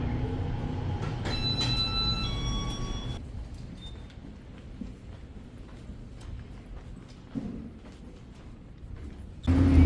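A train rumbles past nearby with clattering wheels and brief high squeals, fading to a steady low rumble before a loud burst at the end.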